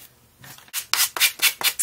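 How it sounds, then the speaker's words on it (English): Fine grit sandpaper rubbed along the edges of a handmade journal, several quick rasping strokes in a rhythmic series, close and clear after a soft start. "I'm just using the fine grit sandpaper on there"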